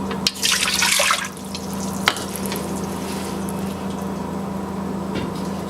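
A cup of water poured into a pan, a loud splashing gush at the start that settles into a steady low hiss and bubbling.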